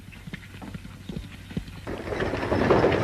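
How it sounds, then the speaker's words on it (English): Horse hooves clip-clop in a rough rhythm in a 1936 Western film scene, moderately close, with a rising wash of noise from more riders toward the end. "Go get my horse, Kyle."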